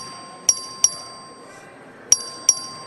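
Voting bell rung by the clerk for a record vote in a Texas House session, four short sharp metallic dings in two pairs over a quiet chamber murmur.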